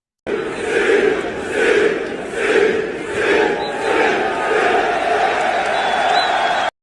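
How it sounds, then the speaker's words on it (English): Football fans in a stadium crowd chant in unison, a loud rhythmic roar that swells and falls in repeated pulses about every seventh of a second, with massed voices blending into one sustained wall of sound. "I think you've all heard and seen the crowd repeating."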